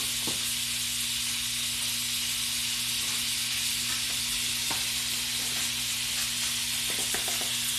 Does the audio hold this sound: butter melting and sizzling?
yes